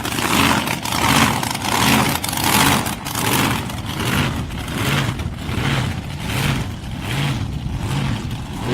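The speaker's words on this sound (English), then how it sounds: "Robbie McKay does a sticky little burn out there from that RB36 cylinder turbocharged motor in that dragster" Turbocharged RB 6-cylinder drag racing dragster doing a burnout, a loud close engine revving in pulsing surges with rough, crackling roar throughout.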